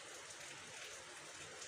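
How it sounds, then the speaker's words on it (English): Rain falls steadily near an oceanside grilled-meat spot in Bamburi, Mombasa, a soft continuous hiss with no voices and no distinct drops. "Look, it's raining"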